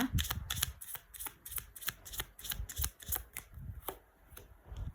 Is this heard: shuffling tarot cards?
yes